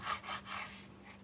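A knife slices pork belly into thin pieces, making four soft, rhythmic scraping strokes that fade slightly, faint and close with no talking.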